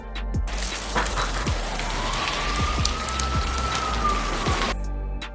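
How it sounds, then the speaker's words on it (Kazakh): Rain falls steadily in a dense, close patter, with a few soft thuds and a thin, drawn-out tone rising and fading in the background. "Қаншама жылдан кейін ол алғаш рет қолын жаңбырға тосады."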